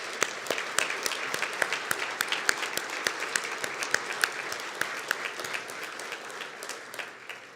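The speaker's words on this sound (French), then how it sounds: "Une main d'applaudissement." A business-gala audience breaks into sustained applause, a steady patter of many hands with individual sharp claps popping out, continuing evenly throughout.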